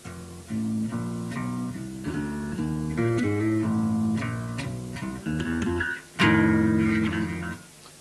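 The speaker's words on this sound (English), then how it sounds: "at the front of the bass, you get a real bassy sound." Bass guitar notes plucked near the neck in a loose melodic line, warm and deep with a rounded tone, played alone up close.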